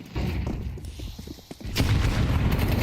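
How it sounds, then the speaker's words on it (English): A grenade blows up in a Counter-Strike 2 match on the Inferno map, with gunfire rattling first and then a loud deep boom, all under a caster's lively commentary. "Huge nade"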